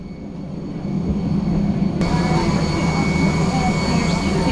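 Jet engine noise of an airliner heard from inside the cabin while passengers board, a steady loud whooshing roar that swells after the first second and holds, with faint cabin talk underneath.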